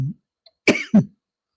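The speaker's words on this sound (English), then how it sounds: "somebody send me their voodoo to stop coughing" Two sharp, close coughs from a person at home, the second heavier, preceded by a brief low throat sound, then silence.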